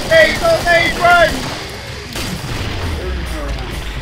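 A grenade blast and gunfire erupt in the video game Killing Floor, with heavy low booms and a dense rumbling roar after about two seconds, following frantic shouting voices at the start.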